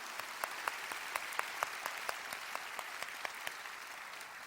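A church congregation gives a faint, distant round of applause in praise, with sharper claps landing in a regular rhythm over a soft, continuous wash of clapping.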